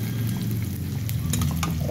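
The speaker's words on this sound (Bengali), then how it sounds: "এইবার আমি এই পেঁয়াজটা ভাজাভাজি হয়ে এসছে।" Onions fry in oil with a dense, steady close-up sizzle and crackle, a few sharper pops and stirring scrapes toward the end, and no voices.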